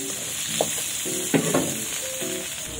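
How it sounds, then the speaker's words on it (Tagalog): Steady hissing sizzle of pork chops frying in hot oil, with a few soft clinks of a utensil stirring in the pan. "Ito ang pork chop sa prito pork chop."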